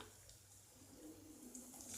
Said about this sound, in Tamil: இதில் நம்ம அந்த புளி தண்ணி இருக்கு இல்லையா, அதை வடிகட்டி எடுத்து வச்சுருக்கோம்ல, அதை ஊற்றிடலாம்.